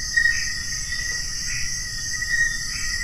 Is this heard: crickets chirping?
yes